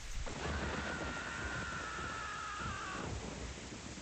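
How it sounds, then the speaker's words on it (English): Thunder and heavy rain from the video game Lamento, a steady, dense roar of rainfall with a low rumble throughout, while a thin sustained tone rides over the storm. "Thunder rent the sky open."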